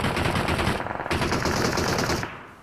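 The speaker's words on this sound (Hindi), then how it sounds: "अब लेफ्ट साइड से हम पे फायर आया" Sustained automatic gunfire in the battle-royale game BGMI, coming from the left side, with rapid continuous shots that stop abruptly, loud and close, with no talking.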